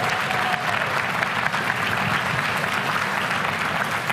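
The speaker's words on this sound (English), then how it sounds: "Let's give this guy a round of applause" A crowd applauding at a national conservative political gathering, dense sustained clapping that stays loud and even throughout, close and unbroken by speech.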